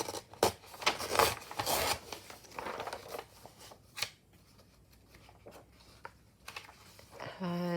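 A page is ripped out of a Daphne's Diary magazine at close range: several quick, crisp tearing and rustling bursts, then quieter paper handling and a short final rasp.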